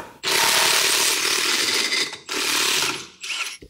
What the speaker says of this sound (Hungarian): Lecsavaroztuk az aktív motortartó bakokat.